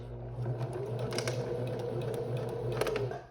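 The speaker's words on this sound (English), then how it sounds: "I'm going to go a few stitches forward and back stitch" A sewing machine stitches forward and back on fabric, a close, steady whirring hum with a quick rhythmic needle clatter running evenly throughout, no voices.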